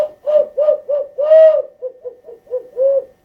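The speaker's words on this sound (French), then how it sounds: "C'est la chouette, bien sûr." An owl gives a rapid series of about ten hollow, tonal hoots, loud and close, with one longer drawn-out hoot in the middle and no other sounds around it.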